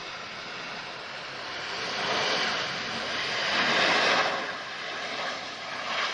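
A Ryanair airliner arriving at Lisbon Airport gives a broad, rushing engine roar that swells and recedes over several seconds, heard from a distance with no talk.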